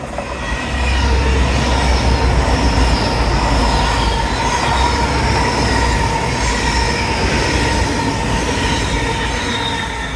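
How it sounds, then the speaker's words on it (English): A fast train runs through the station at Dawlish in Devon without stopping, a loud, continuous rumble of wheels with squealing and rhythmic rail clatter sustained close by throughout, no voices. "Fast train now approaching."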